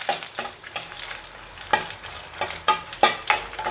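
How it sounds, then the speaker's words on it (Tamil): Dried red chillies and tamarind fry in hot oil in a kadai, giving a steady crackling sizzle broken by sharp, close scraping strokes of a spoon against the metal. The strokes come irregularly and no one speaks. "அதில் மிளகாவையும் புளியும் நல்லா வறுத்துக்கலாம்."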